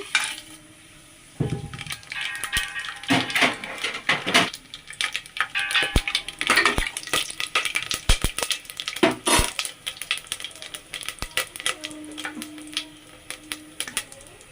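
Whole spices such as cloves, shahjeera and cardamom frying in hot oil for biryani, with crackling sizzle mixed with clanks and scrapes of a spoon against the pan, up close and intermittent.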